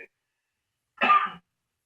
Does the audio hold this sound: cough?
yes